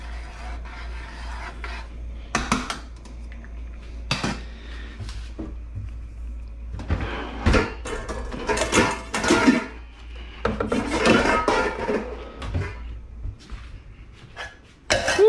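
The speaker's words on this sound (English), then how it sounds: "Let me just give these a nice little stir." Scallion ramen noodles stirred in a pot, giving close, irregular scraping and rubbing strokes in short bursts with brief pauses between them.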